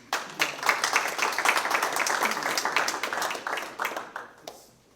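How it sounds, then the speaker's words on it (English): A short round of applause at a school board of education meeting, scattered hand claps swelling quickly, holding steady for several seconds, then thinning out and fading toward the end. "I just give you a quick round of applause."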